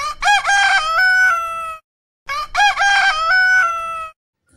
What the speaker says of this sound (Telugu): కోడిపుంజు కోడిపుంజు